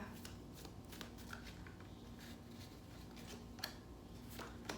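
Psychic Oracle cards are shuffled by hand close up, a quiet, continuous riffling and sliding of cards with small taps, and no talking.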